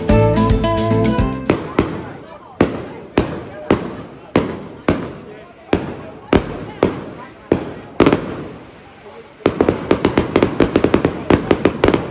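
A rapid barrage of loud mascletà firecracker bangs during fiesta week in Benidorm, Spain, dense crackling at first, then sharp evenly spaced blasts, ending in a fast, furious volley of explosions.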